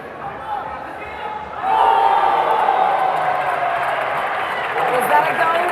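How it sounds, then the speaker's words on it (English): Esports crowd at the FIFAe Club World Cup surging into a loud, sustained roar of cheering partway through, with a commentator talking over it. "they're just cheering their side on"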